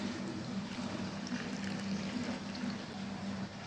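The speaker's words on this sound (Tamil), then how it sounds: "வாஷிங் மிஷின் போட்டிருக்கேன் வெளில தண்ணி போகிற சவுண்டு கேட்குது" Steady rushing of water draining out from a washing machine, continuous and somewhat distant outdoors, over a low mechanical hum.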